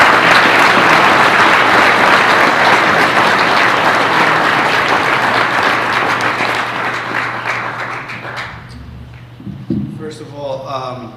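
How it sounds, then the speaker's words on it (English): A school board meeting audience gives a round of applause for a championship lacrosse team's coaches, loud dense clapping that holds steady for several seconds, then thins out and fades near the end. "if we can get a nice round of applause for our coaches"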